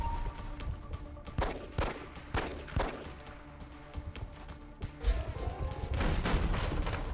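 Repeated bursts of gunfire in the turn-based strategy game XCOM Long War, on an Ironman Impossible campaign, with several sharp volleys spaced through the first half and a denser, sustained rattle building toward the end.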